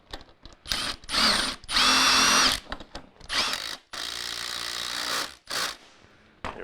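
A power drill drives a Torx screw while a center seat is installed in a Ford F-250/F-350 extended cab, the motor whirring in several loud, close bursts separated by brief pauses.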